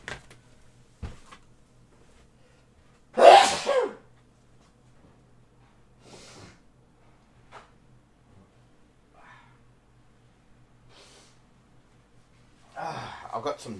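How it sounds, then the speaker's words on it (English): Two sharp, loud sneezes in quick succession, caused by dust up the nose while opening boxes of Flesh and Blood trading cards, followed later by a quieter burst of breath in an otherwise quiet room. "I've got some dust up my nose and I can't stop sneezing."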